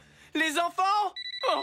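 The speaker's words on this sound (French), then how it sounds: "C'est le téléphone de mon fils." A cartoon telephone gives a short burst of bright electronic ringing pulses, three quick beeps after excited voices in a French-dubbed animated show.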